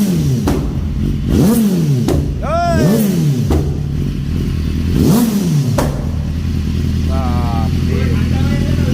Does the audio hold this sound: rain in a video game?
no